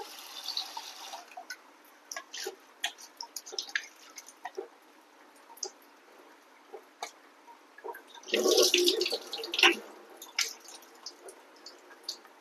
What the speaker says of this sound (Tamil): அண்ட் இது நார்மல் வாட்டர்ல வாஷ் பண்ணிட்டு